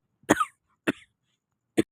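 A person coughs three times in a home kitchen: two close, sharp coughs, then a pause and a final single cough, each short and clear against silence.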